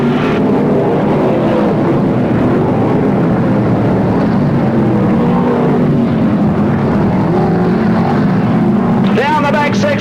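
Sprint cars race at the PCR Action Track speedway during the Telethon Sprint Car Stampede in 1983/1984, producing a loud continuous engine roar with rising and falling passes, with a race commentator talking over the engines.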